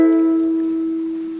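A fretted guitar chord across strings five to two sustains alone near the listener, one strong tone dominating as the ring fades evenly over more than a second.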